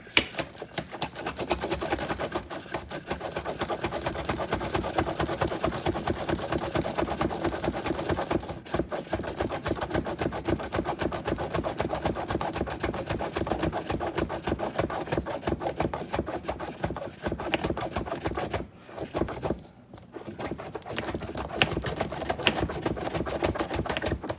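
Steady rapid mechanical clicking and rattling from hand-pumping a Pampered Chef whipped cream maker, a dense continuous rhythm that runs loud and close with only brief pauses.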